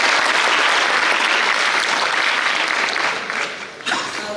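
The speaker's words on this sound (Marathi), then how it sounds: "ग्रेट, स्वतःसाठी एकदा जोरदार टाळ्या." Students at a career forum in Baramati clap loudly together, a dense burst of applause that runs steadily before thinning and fading near the end.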